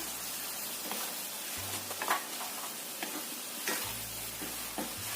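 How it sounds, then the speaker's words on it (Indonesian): Quiet sizzling of food in a pan over medium heat with intermittent scraping and clicking as it is stirred around, no voices present. "Aduk sampai tercampur rata."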